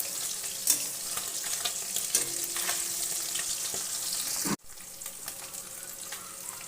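Small mourala fish frying in oil after being flipped, one side already crisp, giving a steady close crackling sizzle with a few clicks; the sizzle drops abruptly near the end, then carries on more quietly.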